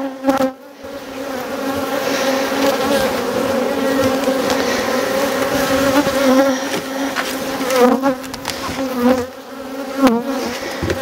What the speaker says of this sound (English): I don't want to squish any of my bees